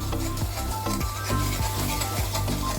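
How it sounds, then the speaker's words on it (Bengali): Semolina being stirred into a pan for restaurant-style suji upma, a rhythmic scraping of a spoon against the pan every half second over a steady low sizzle, close and moderately loud with no talking. "আস্তে আস্তে দিয়ে এইভাবে নাড়তে হবে।"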